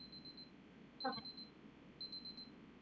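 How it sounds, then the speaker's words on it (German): An alarm clock in the Superliminal video game beeps in rapid high-pitched bursts, three clusters spaced about a second apart, fairly quiet, with a brief clatter in the middle and no one talking. "Es ist 4 Uhr, Wecker aus."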